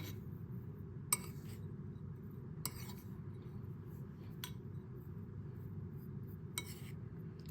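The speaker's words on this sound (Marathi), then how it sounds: "ह्याच्यामध्ये मी थोडंसं विलायची पावडर ॲड केलेले आहे ते छान आपण मिक्स करून घेऊया" Tilgul filling is stirred with cardamom powder in a bowl, giving a few faint, sparse clinks of a spoon against the bowl over a low background hum.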